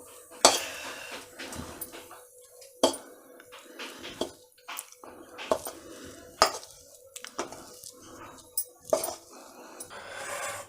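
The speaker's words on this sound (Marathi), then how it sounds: "त्या ताटावर मी सगळं टाकून घेते." A hot sesame and jaggery chikki mixture is scraped and spread onto a steel plate, producing repeated metallic clinks and scrapes of utensil on steel, with sticky squishing between the hits.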